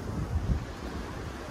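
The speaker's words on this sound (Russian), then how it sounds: "Дует легкий ветерок." A light breeze on the Black Sea shore at Sochi on a clear, warm summer day, a steady low wind rumble against the microphone with soft surf underneath, no voices.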